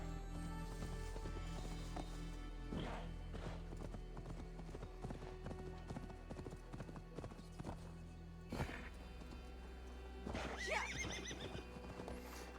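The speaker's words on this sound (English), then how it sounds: "Just making this horse jump over everything, man." A horse in the video game Assassin's Creed Valhalla gallops with steady, loud clip-clop hoofbeats and lets out whinnying neighs, set against a continuous game soundtrack.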